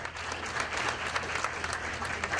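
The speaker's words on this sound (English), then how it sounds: "which passed unanimously and received a round of applause" A room of people at a county commissioners' meeting applauds after a unanimous library funding vote, with brief, steady, fairly soft clapping throughout.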